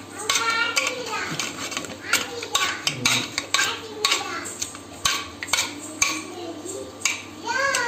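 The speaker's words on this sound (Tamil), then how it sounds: "இப்போ இதை வச்சு நான் நல்லா மசித்து விட்டுக்கிறேன்" Cooked dal with manathakali keerai greens is mashed in a pot, giving repeated close metallic clanks and scraping strokes against the pot, with voices talking in the background.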